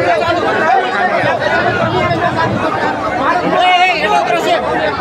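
A crowd gathered outside a gate chatters steadily, a dense close babble of many overlapping voices throughout.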